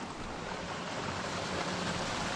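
Steady, dense rush of falling water at the Cascada Doña Elba waterfall in the Altas Cumbres of Córdoba, a continuous broadband roar with no breaks and no voices.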